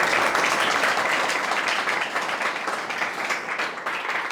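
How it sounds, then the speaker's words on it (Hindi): Loud, sustained applause from a large audience at a board-exam preparation session, a dense continuous wash of many hands clapping at a fairly even level throughout. "एक बार नोशन टीम के लिए जोरदार तालियां।"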